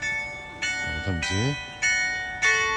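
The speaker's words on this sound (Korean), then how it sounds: "종소리를" Church-style bells toll to mark ten o'clock in Houten, with several clear, resonant strikes about half a second to a second apart, while someone speaks briefly over them.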